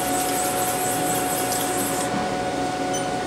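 A Haas CNC mill with its spindle running and axes being hand-jogged gives a steady, loud broadband whir with a fixed tone throughout, and the pitch shifts slightly partway through.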